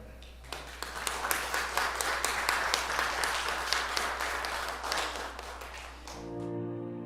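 A congregation applauds after a prayer at a Catholic missionary gathering for the Easter Triduum. Dense, steady clapping fills the room for about six seconds, then it fades into a sustained musical tone.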